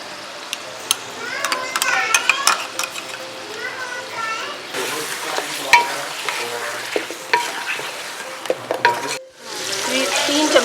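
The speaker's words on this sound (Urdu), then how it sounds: "یہ جو لہسن ہم نے ڈالا تھا اس کو ہم میش کریں گے تو یہ گودا نکل جائے گا" Garlic being mashed and stirred in a hot frying pot for beef yakhni pulao: a spoon repeatedly scrapes and taps against the pot over a steady sizzle, while children's voices carry in the background.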